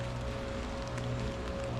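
Steady rain falling on a wet, leafy, muddy forest trail while hiking near Stowe, Vermont, a dense continuous patter filling the clip with no voices.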